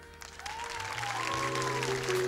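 Steady applause from a television studio audience fills the space, dense clapping continuing throughout, with faint tonal sounds mixed in underneath.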